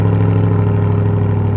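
Car engine driving with a strong, steady low hum and mild clatter, loud and close throughout, with no sharp revving surges and no talk.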